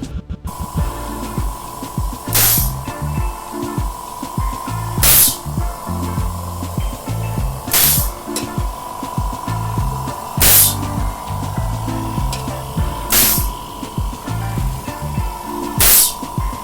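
A 0.75 HP oil-free air compressor drones steadily with a loud mechanical hum and hiss, broken every few seconds by sharp bursts of released air, close and alone.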